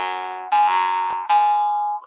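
A jaw harp is plucked twice without any breath through it, giving clear, bell-like metallic tones that ring out and slowly fade, close and fairly loud.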